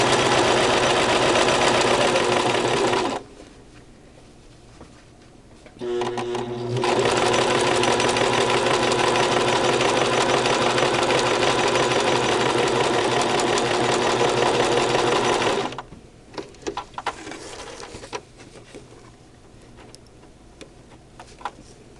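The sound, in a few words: Brother LX3014 sewing machine sewing face mask lining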